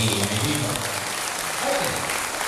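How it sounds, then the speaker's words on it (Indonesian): Audience applause at a school motivational seminar for parents and students, a broad wash of clapping throughout with a faint voice and some low tonal sound beneath it at the start. "tepuk tangan untuk kita semuanya hari ini"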